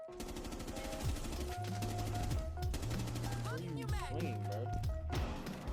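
Rapid automatic gunfire in the tactical shooter Rainbow Six Siege, sharp repeated bursts up close, mixed with game music tones, effects and steady voices throughout.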